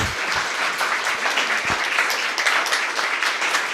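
An audience applauds guests at a workshop on local solutions to a housing emergency in informal settlements; steady, dense clapping fills the whole stretch at moderate level with no talk over it.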